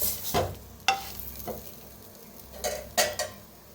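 Crispy eggplant slices fry in a pan with a soft sizzle underneath, while a utensil scrapes and taps the pan sharply several times as the slices are turned.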